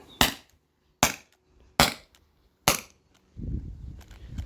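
A Beeman BP50 CO2 air pistol fires four sharp, loud cracks about a second apart, followed by a low rustling as it is handled.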